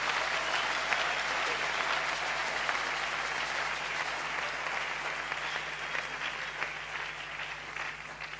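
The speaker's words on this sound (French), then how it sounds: "Nous acclamons les rois." An audience at a church gathering applauds continuously, a dense, even wash of clapping from many hands that holds steady for several seconds, with faint voices mixed in.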